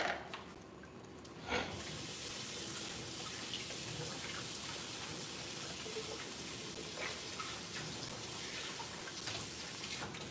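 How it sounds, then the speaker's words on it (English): Tap water runs steadily under a pair of hands being washed, a continuous close splashing hiss at an outdoor fish fry, with a brief louder splash near the start and no talking. "Let me wash my hands"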